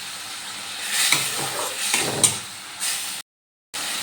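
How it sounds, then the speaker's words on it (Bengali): Chhena (paneer) frying with spices in a pan, a hissing sizzle with scraping stirring strokes up close, broken by a short silent gap near the end. "এবার এই ছানাটা ভালো করে মশলার সাথে কষিয়ে নেব"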